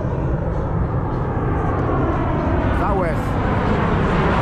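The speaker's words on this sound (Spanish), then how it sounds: "mira cómo pasan los aviones" A Southwest airplane flying low overhead near a mall in Las Vegas, a loud, continuous engine roar that fills the whole stretch, with a voice talking over it.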